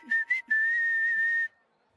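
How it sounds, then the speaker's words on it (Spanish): A cartoon pony character whistles a cheerful tune while working: two short high notes followed by one long sustained whistle, clear and close with no talking. "Adoro silbar mientras trabajo."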